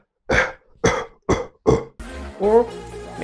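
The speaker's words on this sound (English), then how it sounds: "when you cough very deeply, it sounds like something like this." Four deep, throaty coughs come in a steady sequence, close and loud, followed by a voice speaking briefly.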